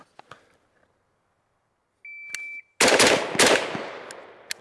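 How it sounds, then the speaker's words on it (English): Primary Weapon Systems MK114 rifle fired on a range: a few faint clicks, then a steady electronic beep, followed by a quick burst of loud, sharp gunshots with ringing echoes. "So the rifle shoots very flat and it's very easy to shoot."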